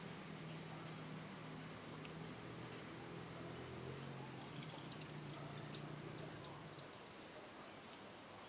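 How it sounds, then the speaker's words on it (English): Coolant water pours and splatters onto the ground from a running engine left without its radiator cap, a steady faint splashing over a low engine hum, with scattered sharper drips toward the end. "Now I'm losing water all over the ground because I didn't put the radiator cap back on."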